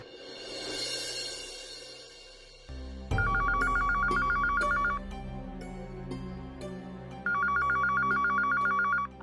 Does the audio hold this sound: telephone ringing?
yes